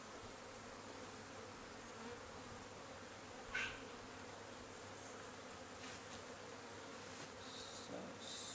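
Honeybees at a top bar hive make a dense, steady buzz close up. It stays constant throughout, with a few brief louder passes and no talking.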